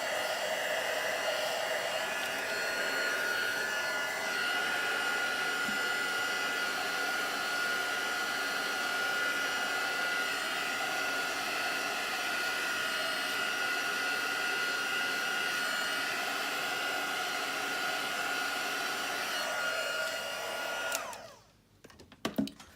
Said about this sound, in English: I'm also just going to heat this up just to dry this off so we can finish it.